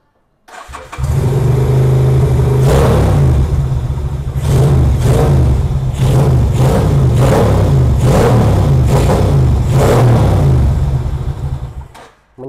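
A Kaisar Ruby 250 cc V-twin motorcycle engine starts, then idles loud and close with a deep throbbing beat, broken by a series of quick rhythmic revs before it cuts off near the end.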